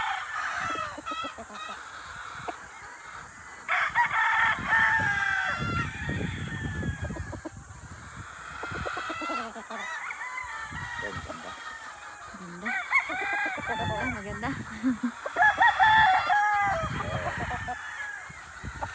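Gilliam roundhead gamecock roosters at a game farm, several nearby crows rising and falling across the stretch alongside clucks and other fowl calls, with faint voices in the background.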